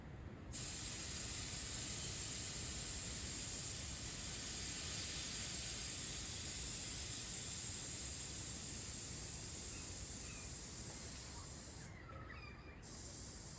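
Air hisses steadily out of the suspension as a small valve is pressed in the back of a worn XG Falcon ute, a broad, continuous spray-like rush that holds nearly unchanged for over ten seconds before tapering slightly.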